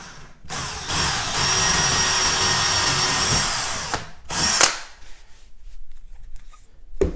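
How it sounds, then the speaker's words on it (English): A power drill runs loud and steady for about three seconds, drilling at an angle into a floorboard, then a brief second burst follows, with scraping and handling noises trailing off afterward. "just drill on a slight angle"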